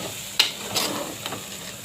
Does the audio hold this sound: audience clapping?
no